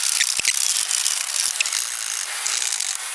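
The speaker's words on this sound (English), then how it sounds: "Let's go ahead and now start removing all the bolts." Ratchet wrench clicking while removing bolts on a 2016+ Toyota Tacoma headlight, quick bright pawl ticks in uneven bursts, close and loud, with no talking.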